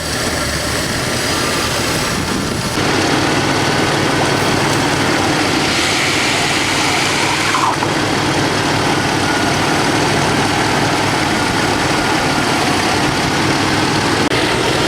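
Ford Fairmont 200 six-cylinder engine running continuously at a steady idle after its dry carburetor was primed, a loud, close, unbroken rumble with no one talking.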